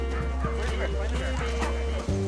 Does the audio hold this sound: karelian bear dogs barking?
yes